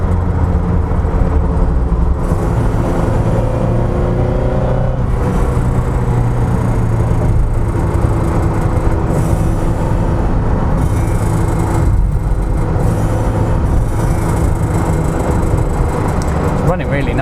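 A Lotus Elite with a 2-litre 16-valve engine on a first drive after long storage, a steady loud engine drone and road rumble with a shift in tone midway, while people talk inside the car.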